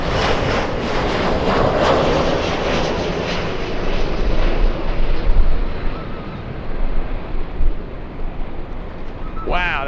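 A WestJet Boeing 737 jet airliner at LAX gives a loud, continuous roar that swells and fluctuates with gusty wind buffeting, and a brief sharp sound cuts in at the very end.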